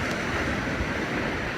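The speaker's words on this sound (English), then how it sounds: "this is what you call an angry sea" Storm-surge waves from Hurricane Dorian roar steadily onto St. Simons beach at King and Prince Beach and Golf Resort, a dense, constant crash of rough sea with wind buffeting the microphone and no voices.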